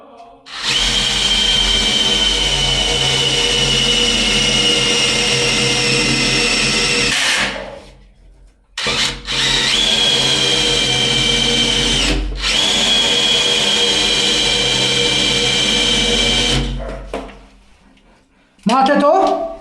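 A drain cleaning machine runs through a toilet pipe, its loud steady motorized whine and grinding rumble broken by two brief stops before it restarts and then winds down.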